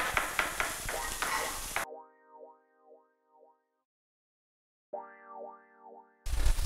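Leek and celery sweat in a pan with a soft, steady sizzle, heard in short bursts at the start and end, broken in the middle by a warbling, bouncing electronic tone effect.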